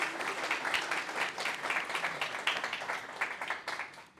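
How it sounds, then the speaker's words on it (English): An audience at the tim.js 100th meetup, a JavaScript gathering, claps steadily in a moderately loud, even round of applause, with a few sharper claps standing out near the end. "give a round of applause to yourselves"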